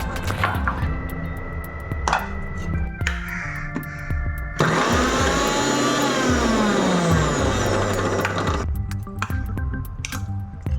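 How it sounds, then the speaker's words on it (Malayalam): A mixer grinder grinding raw tamarind for chutney whirs in loud bursts, pausing and restarting, with a steady roaring grind through the middle and motor pitch sliding as it spins down. "ഞാൻ പിന്നെ മിക്സിയിൽ ഇട്ടു"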